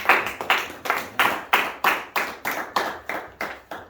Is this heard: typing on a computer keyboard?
no